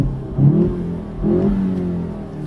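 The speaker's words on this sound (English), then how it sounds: "I'm just going to quickly show you what it sounds like when you rev the car" A VW Mk7 GTI engine revs twice in quick succession, rising and falling in pitch each time, close and loud with no blow-off flutter.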